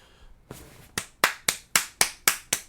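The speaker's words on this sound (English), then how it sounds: "That was my applause" Hand claps from a single person, about eight sharp, evenly spaced slaps that build to a steady rhythm, close and alone with no other sound.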